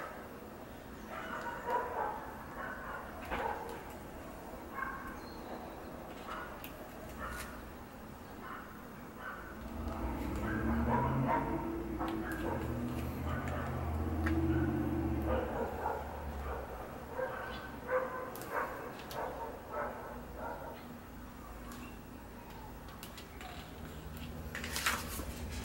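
A dog barks and whines repeatedly amid household clatter, with yips and whimpers scattered over a continuous noisy background and occasional talk.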